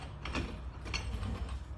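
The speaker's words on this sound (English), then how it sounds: "my jack's sliding on me" A metal car jack shifting and scraping under a Jaguar F-Type R during a front strut replacement, a brief grinding mechanical slide with creaks, close and continuous.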